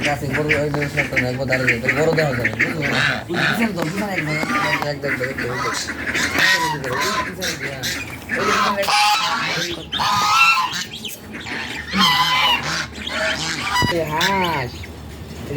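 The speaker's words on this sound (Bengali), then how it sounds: "আমরা হাঁস পাল পালি হাঁস আছে আমাদের কত সুন্দর কিউট হাঁস দেখুন" A flock of ducks quacking and honking close by, calls overlapping in busy bursts, with a person talking over them.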